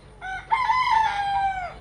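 A rooster at a safari park crows once, loud and close, with a short rising lead-in and then a long sustained call.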